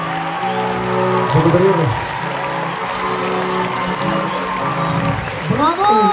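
A Christmas concert audience in Blagoevgrad applauds and cheers for a rapper, broad clapping and whoops filling the hall while someone speaks over the crowd.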